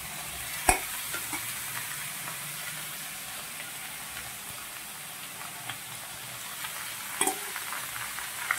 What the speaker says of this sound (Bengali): এটাকে একটু ভেজে নেব।